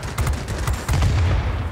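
Nose cannons on a Yak-9U fighter fire in World of Warplanes as rapid, dense bursts of gunfire with booming low thuds, loud and steady through the whole clip.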